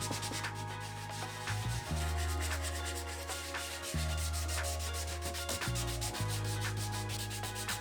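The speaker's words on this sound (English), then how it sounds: "I should have bought grittier sandpaper." Sandpaper rubs back and forth over birch wood in rhythmic, scratchy strokes, close up and steady, with a brief clatter partway through and no talking.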